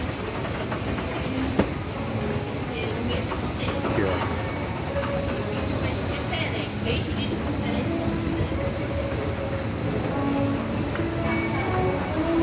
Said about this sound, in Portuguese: estou aqui no metrô